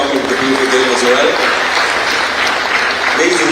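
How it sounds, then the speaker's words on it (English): Audience applause at a football award ceremony, dense steady clapping from a crowd lasting the whole moment, with a voice briefly audible over it at the start and end. "I really want you to give them a round of applause"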